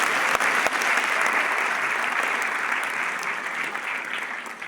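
Enthusiastic audience applause at a political gathering in Haryana, a loud, dense and sustained clapping from a large crowd, continuing evenly and tapering slightly toward the end.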